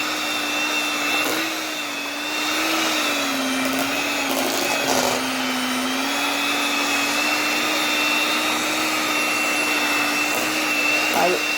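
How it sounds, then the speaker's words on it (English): An electric stand mixer beating thick rebatched soap in a pot, a steady loud whirring motor hum with slight pitch wobble, running continuously throughout with faint scraping. "this mixer was bought strictly for soap"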